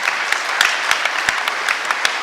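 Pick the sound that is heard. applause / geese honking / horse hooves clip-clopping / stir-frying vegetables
applause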